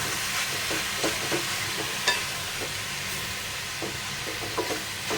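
Coconut and jaggery mixture stirred in a pan over medium gas, a continuous soft sizzle with regular scraping strokes of the spoon, close and steady, with no talk.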